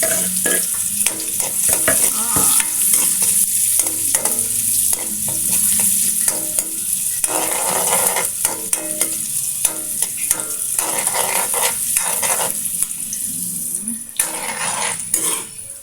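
Chopped onion and garlic frying in a pan, a steady sizzle broken by frequent scraping and clinking as a utensil stirs them against the metal throughout.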